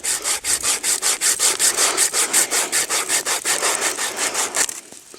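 A hand saw rips quickly through a thin branch about half an inch thick with about twenty rapid, rhythmic back-and-forth rasping strokes close by. The strokes stop abruptly when the cut goes through.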